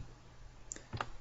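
Mouse clicks while working in the Unity editor, two or three short, sharp clicks close by against a quiet room background.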